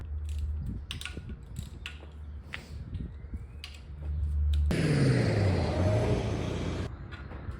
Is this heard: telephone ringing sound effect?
no